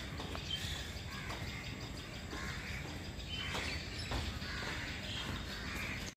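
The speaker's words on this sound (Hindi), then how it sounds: "यहाँ सुबह सुबह चिड़ियों की आवाज़ सुनने मिलती है" Birds call faintly in the early morning outdoors, with scattered distant caws and chirps over a steady low hiss of ambient noise.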